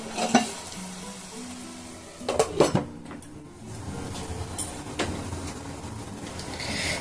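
A metal lid clanks a few times onto a cooking pot of bitter gourd and potatoes, over a soft background sizzle of frying.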